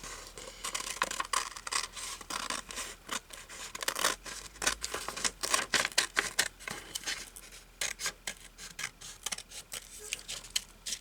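Scissors snipping through upholstery fabric while covering a small pin cushion chair, a run of close, quiet, irregular cuts and rubbing textures with brief pauses.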